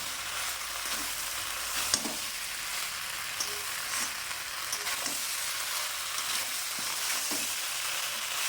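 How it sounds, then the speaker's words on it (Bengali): Fried vegetables for neem shukto stirred in a sizzling pan: a steady, close crackle of frying oil with soft, irregular scrapes and turns of the spoon throughout, with no voices. "ভেজে রাখা আনাজগুলি দিয়ে দিলাম, দিয়ে নেড়ে দিলাম"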